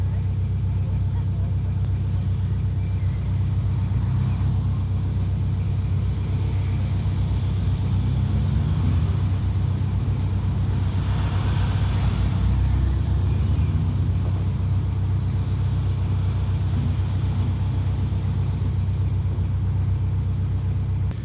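A car slowing down on a road beside a canal lock gives a continuous low engine rumble and road roar that holds steady and close throughout, with no clear change in level.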